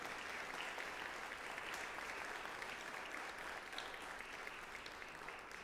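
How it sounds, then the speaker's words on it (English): Spring concert audience gives sustained applause, a continuous even wash of many hands clapping across a hall, steady in level with no voices breaking through. "So let's get another round of applause for a live music event."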